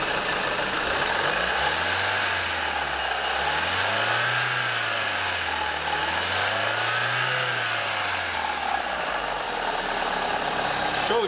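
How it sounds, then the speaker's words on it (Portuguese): A 2005 Ford Fiesta engine idles, then revs up and down twice in smooth swells before settling, heard close and steady over faint background noise. "Dá uma aceleradinha pra ver o ativo circular ali."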